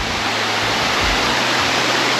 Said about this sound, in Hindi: यहीं से वाटरफॉल हो रहा है।